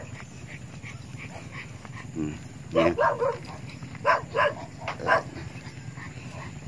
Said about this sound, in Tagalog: may mga aso kasi